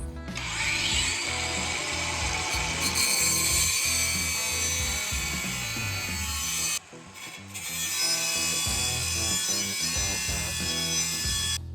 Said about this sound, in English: let's get to cutting some steel